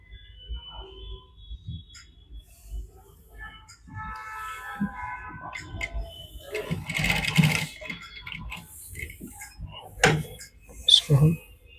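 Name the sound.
sewing machine stitching a kurta neck strip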